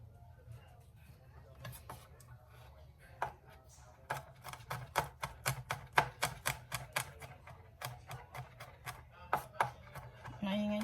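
A knife chops onion on a cutting board in a home kitchen, a run of sharp, regular knocks speeding into a steady rhythm, close and clear, with low background hum from a busy outdoor setting.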